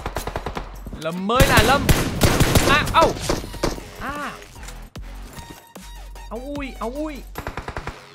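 Gunfire in the PUBG Mobile battle royale game: loud, dense bursts of automatic shots up close, then scattered single shots, mixed with excited Vietnamese commentary talking over the action.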